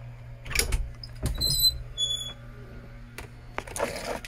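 Passenger door of a shuttle bus converted into a camper is pulled shut, with a couple of solid thumps and latch clicks over a steady low hum from the parked vehicle.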